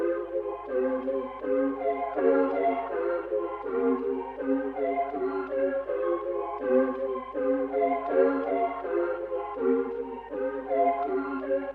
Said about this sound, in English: I added this key sounds like pad thing from Analog Lab as well.